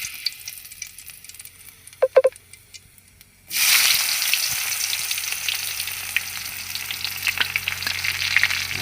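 Onions drop into hot oil in a pan after a few quiet clinks, and a loud, steady, close sizzle bursts up and continues to the end, with some stirring and no voices.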